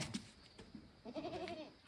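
A sheep near a person's farmyard gives one short, faint wavering bleat amid low background rustling, heard quietly up close.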